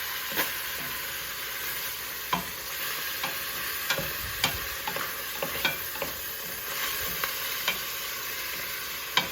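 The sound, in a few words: beef browning and sizzling in a pot for vegetable beef soup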